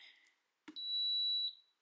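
A short click followed by a single high, steady electronic beep lasting under a second, clear and close.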